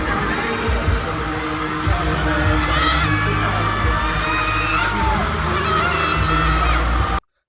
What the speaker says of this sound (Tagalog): Grabe naman yung tili na yun.